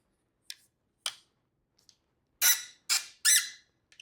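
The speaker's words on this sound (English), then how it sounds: "I'm telling you, the squeak is no joke." A foldable 210 cm lamp tripod stand with ball head squeaks as its legs are spread wider: a few short, sharp squeaks, then three louder, drawn-out squeals in quick succession, close and with no talking.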